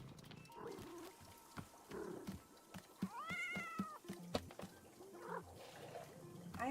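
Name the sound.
cat meowing from a radio in the video game Wanderstop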